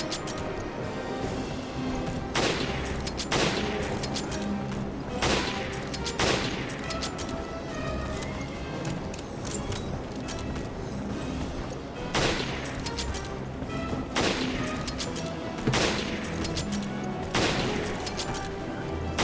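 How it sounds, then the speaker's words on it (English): Gunfire in Resident Evil Revelations, Abyss Raid Mode: repeated sharp shots in clusters and single bursts over about twenty seconds against a busy game background, loud and close. "And just keep on shooting him."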